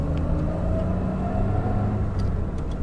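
A 1966 Jaguar XKE Series I 2+2 coupe with its straight-six engine and stock exhaust drives along, giving a steady, mellow low rumble with faint higher ticks and no talk over it.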